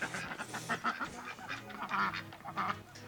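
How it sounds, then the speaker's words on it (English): Ducks at an animal resort facility quack in a quick run of calls, several birds close by, rising and falling in bursts. "And the ducks are basically just like spectators."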